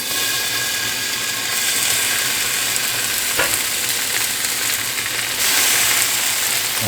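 Ham frying in a pan while being stirred, a steady close sizzle with scraping and clicking from the utensil and a sharp knock midway, and no talking.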